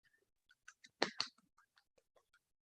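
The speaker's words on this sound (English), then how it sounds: "you can probably only hear me clapping" A lone person claps hands over a quiet online conference call, sparse sharp smacks with two louder close claps in the middle and faint scattered clicks around them.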